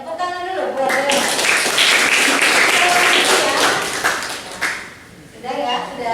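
A class of students applauds for several seconds after a presentation, a dense wash of clapping that swells, holds steady, then thins out, with voices talking over it near the end.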